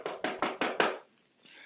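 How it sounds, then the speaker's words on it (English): Five firm knocks on a door in a steady, evenly spaced rhythm, close and loud, followed by a brief quiet pause and faint room noise. "Answer the door."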